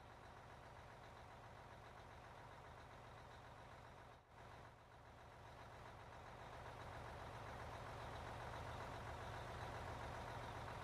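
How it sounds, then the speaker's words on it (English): Heavy mining trucks idle in the video game Out of Ore, a continuous low diesel rumble that dips briefly then swells slightly louder, steady and without talk. "Boy, I love the sound of this engines in these trucks."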